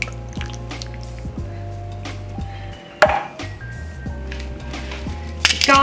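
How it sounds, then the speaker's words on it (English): Lamb, tinned tomatoes and coconut milk go into a pot, heard as wet squishes, drips and soft clinks of a spoon or can against the pot, close and moderately loud. "got the lamb going in, and then the tin tomatoes, the coconut milk"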